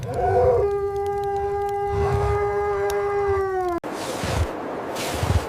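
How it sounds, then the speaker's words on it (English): A wolf howls in a long, sustained, wavering tone lasting several seconds in a cold wintry setting, loud and fairly near, then breaks off into rustling and low noise. "Wolves."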